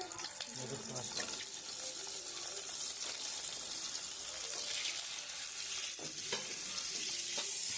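Boiled eggs fry in a pan of oil with turmeric and chili powder, giving a loud, bright continuous sizzle with occasional stirring and scraping clatter close by.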